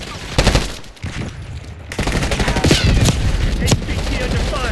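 Rapid automatic gunfire from the Black Ops 6 video game, in the Kill Order mode on the Derelict map. Dense bursts rattle almost continuously with a brief lull, mixed with game sounds and a radio-style voice.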